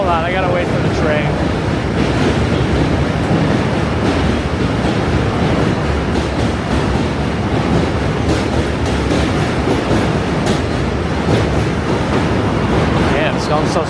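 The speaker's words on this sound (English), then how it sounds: "Hold on, I gotta wait for the train." A train rumbles loudly and steadily past on a New York City bridge, continuous heavy rolling noise with clattering wheels for the whole stretch, with someone speaking briefly.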